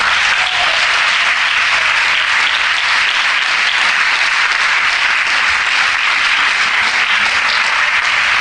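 Sustained, loud applause from a church congregation fills the whole stretch evenly, with no talking.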